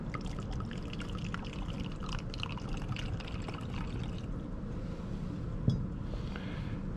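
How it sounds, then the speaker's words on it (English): Water pours steadily into a titration cup, about 100 millilitres, a close continuous splashing stream that thins out toward the end, with a small clink near the finish. "So I will pour 100 milliliters."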